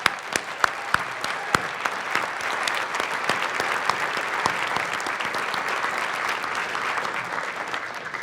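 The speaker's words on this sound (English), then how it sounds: "You can clap." At a community service award presentation, a sizable audience claps for the award recipients, giving a sustained, even wash of applause with a few louder nearby claps early on.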